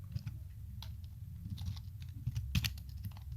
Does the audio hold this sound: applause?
no